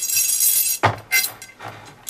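A metal washer goes onto a bolt, making a few sharp close metallic clinks and taps after a brief hiss, spaced unevenly over about two seconds.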